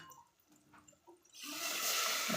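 Water pours steadily into a hot pan of spiced oil tempering, a sudden loud hiss and splashing roar that starts midway and keeps going.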